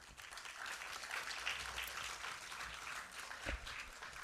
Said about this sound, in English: So a big round of applause for all the visionaries that stated really great ideas.